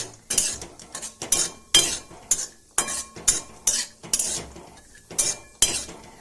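A utensil scrapes and stirs through cashews dry-roasting in a pan, in repeated rhythmic strokes with light clinks, fairly close and steady, no talking.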